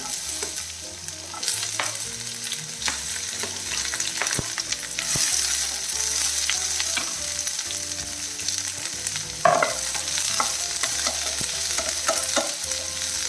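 Sliced onion and bitter gourd with curry leaves stir-fry in a pan, giving a steady close sizzle broken by spatula scrapes and clicks throughout, with no talking.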